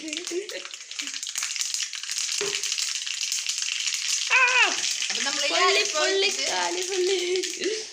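Spices sizzle and crackle in hot oil for a tapioca kurma curry served with ragi pathiri, a steady frying hiss running throughout while voices talk over it.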